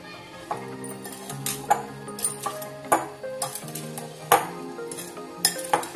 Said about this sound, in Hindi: सभी मसाले अच्छी तरह मिक्स कर लेते हैं।